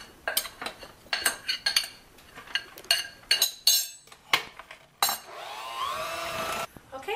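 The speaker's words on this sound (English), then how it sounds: "then you're just going to mix it all up" Cake batter for a pecan pound cake being stirred by hand in a bowl, a spoon or whisk clinking and scraping against the sides in quick bursts, then a steadier, sustained scraping toward the end, close and fairly loud with no talk.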